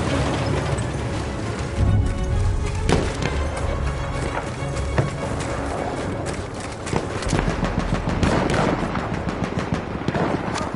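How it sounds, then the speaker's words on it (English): A heavy, continuous rumble of battle from an enemy artillery barrage in the Battlefield 1 video game, with dense overlapping blasts and crackling gunfire sustained throughout. "Wait for the enemy artillery barrage to stop firing."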